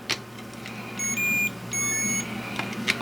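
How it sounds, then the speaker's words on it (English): Multimeter continuity beeps while leads probe the contact plate of a Commodore C64 Tac-2 joystick: two short, thin electronic tones, the first brief and the second longer, faint against quiet room background. "take one of the multimeter leads like that, and I search on the plate"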